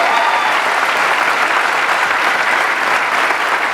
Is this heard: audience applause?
yes